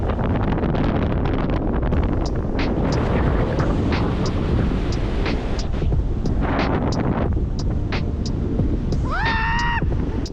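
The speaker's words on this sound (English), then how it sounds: "It's so windy!" Strong, continuous wind roars and buffets the microphone throughout, with a brief whistling tone rising near the end.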